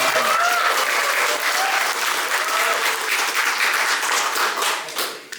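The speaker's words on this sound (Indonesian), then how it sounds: "Tepuk tangan." Audience applause fills the room at a company employee gathering, a dense, steady wash of many hands clapping that holds for several seconds before tapering off at the end.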